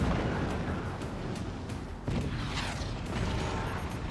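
Forts strategy game battle: booming artillery-like blasts and explosions crash in rapid succession as a cannon is destroyed, dense and loud throughout the short stretch, with no talking over it.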